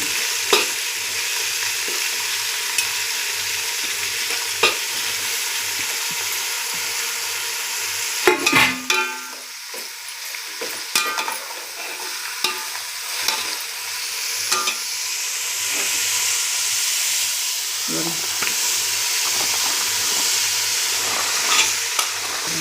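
Vegetables sizzle and crackle steadily in a hot pan, with occasional clanks and scrapes of a spoon stirring them.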